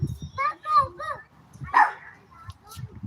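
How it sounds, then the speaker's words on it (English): A dog gives a few short barks and yips at home, with someone talking around them; the barks are fairly close, spaced over a few seconds and interleaved with speech. "Y'all hear BB barking, right?"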